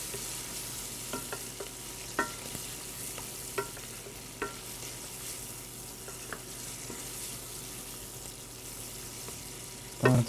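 Diced pancetta fries and browns for carbonara in a steady, close sizzle, with occasional light scrapes and taps of stirring throughout and a louder clatter at the end.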